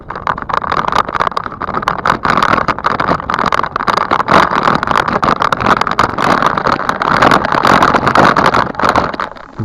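A car drives past a construction site, its road and engine noise a steady, loud wash from start to end with no talk.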